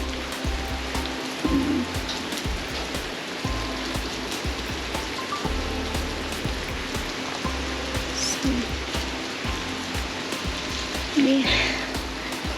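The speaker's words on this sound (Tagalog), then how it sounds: "Super OA ng ulan." Heavy rain pours steadily onto a surface, a dense constant patter with occasional louder drips and splashes, no voices standing out.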